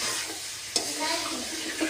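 Tomatoes stirred and fried in a pan for a North Indian cauliflower curry, a steady close sizzle with a sharp utensil scrape near the start and a soft clink toward the end.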